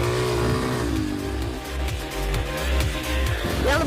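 Motocross bike racing around a dirt track behind a motocross company's premises, engine revving loud and close with rising and falling pitch through throttle blips and gear changes, continuous throughout.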